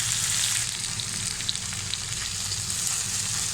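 Boiled vermicelli for chicken chow mein sizzles steadily in a hot pan over high heat, a close, even hiss with faint scraping and small pops, no voices.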